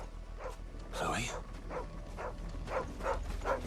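A dog in the video game Final Fantasy XVI gives a series of short barks and yips, roughly rhythmic and moderately close, with game music and ambience underneath.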